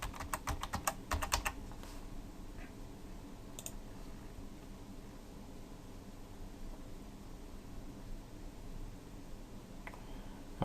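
Computer keyboard typing, a quick burst of close key clicks at the start followed by sparse, faint taps over a quiet background.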